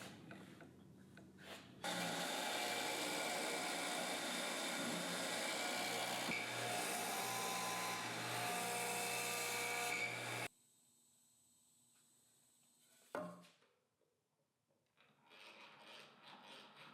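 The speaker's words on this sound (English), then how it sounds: "I'm ready to cut some mortises" A chuck-mounted tool cuts mortises in wood, giving a steady loud grinding, rasping whir for several seconds that stops abruptly, followed by quieter mechanical clatter and a brief resumption.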